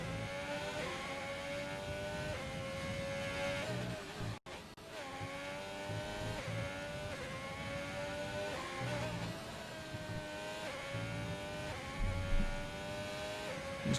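A race car screams down the straight in an online endurance racing game, its engine revving hard through rising gear pulls with brief shifts, loud and close, while a commentator talks quietly underneath.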